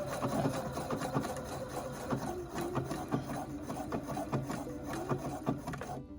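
Sewing machine running a star stitch, a rapid rhythmic mechanical clatter, steady and fairly close, stopping abruptly at the end.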